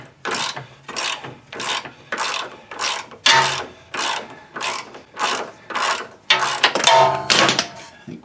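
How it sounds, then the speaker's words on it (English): A ratchet wrench clicks rhythmically while loosening a nut on a 2011 Ford Edge, about a dozen close, sharp bursts of ratcheting strokes in steady succession. "Get this nut off of here."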